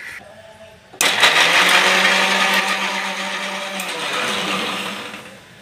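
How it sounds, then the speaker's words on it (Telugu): A mixer grinder whirs loudly as it blends a peanut and chana dal chutney with salt and a little water, starting abruptly and running steadily with a slight shift in pitch toward the end. "మిక్సీ ఒక తిప్పుకోవడం."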